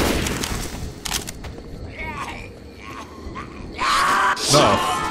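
Bursts of gunfire in the co-op zombie shooter Left 4 Dead 2, on the Death Toll church level, crackling in loud clusters near the end amid game noise and voice chatter.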